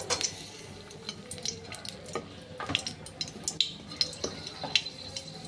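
Cardamom pods and cloves fry in hot oil, giving a soft close sizzle with scattered crackles and utensil scrapes as they are stirred, faint and uneven.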